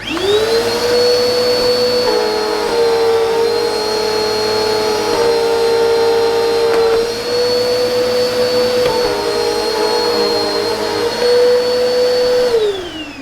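A Bissell 2259/2252 upright vacuum cleaner runs on carpet after a belt change and suction repair, giving a loud, steady motor whine that shifts slightly in pitch as the height adjusts, then winds down at the end.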